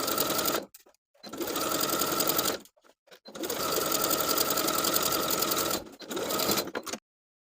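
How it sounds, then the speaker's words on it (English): A sewing machine edge stitches around the bottom of a T-shirt sleeve, running in several loud, close bursts of rapid, even needle clatter separated by short pauses. "Then I can edge stitch along the upper inner fold all the way around the bottom of the sleeve"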